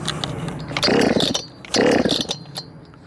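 A ported Efco MT 6510 chainsaw engine gets its idle tuned, revving up in two loud, rasping bursts that fall back to a sputtering, uneven idle close by.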